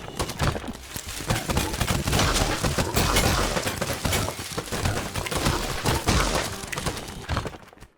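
Shotgun blasts in the roguelike video game Billy's Nightmare, fired by a farmer character: a dense, continuous stream of cracking shots and impacts, loud and busy for several seconds before cutting off.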